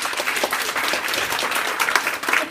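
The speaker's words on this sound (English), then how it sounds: "Please give her a big round of applause." An audience applauds a volunteer coming up at a bubble show keynote, a steady, dense clapping that holds for the whole stretch without pause.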